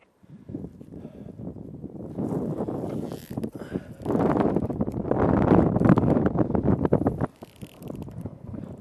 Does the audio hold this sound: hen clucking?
no